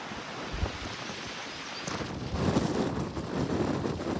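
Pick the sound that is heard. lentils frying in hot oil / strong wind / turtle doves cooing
strong wind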